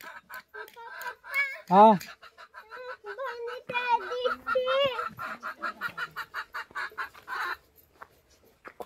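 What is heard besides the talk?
rooster crowing in the morning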